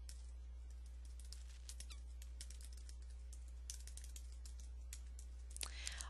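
Someone types on a computer keyboard in bursts of quick, faint, close key clicks, with a few short pauses and a slightly louder clatter near the end over a low steady hum.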